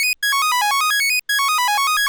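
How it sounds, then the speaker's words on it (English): A glitchy pluck synth built from the default Serum saw wave with no effects plays a quick, bright melodic pattern of short notes, twice cut by abrupt brief dropouts. "I've got this glitchy pluck that I made in Serum, and it's literally just a saw wave"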